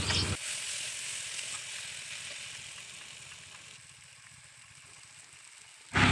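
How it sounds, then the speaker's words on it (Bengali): Luchi frying one by one in hot oil, a steady soft sizzle and crackle throughout, fading slightly toward the end before a brief louder rustle. "আমি এখানে এক এক করে লুচিগুলো ভেজে নিচ্ছিলাম"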